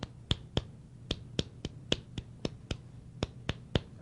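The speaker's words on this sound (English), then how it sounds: "or you can clap it like" Sharp, crisp hand claps beat out an acoustic guitar strumming rhythm, about fifteen quick, evenly spaced hits with a slight swing, heard close and alone.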